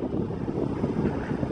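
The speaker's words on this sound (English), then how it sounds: "There goes the paddle wheel boat." A paddle wheel boat passes on brown water in a ditch during stormy weather, heard as a steady low rumble half-buried in constant wind buffeting the microphone.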